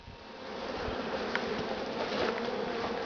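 Honeybees at a queen-rearing breeding hive produce a steady, dense buzzing close by, continuous and even with no voices.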